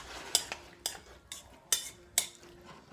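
A utensil stirs and scrapes a sloppy joe ground meat mixture seasoned with salt and pepper in a frying pan, five or six sharp clinks at an uneven rhythm, close and fairly quiet.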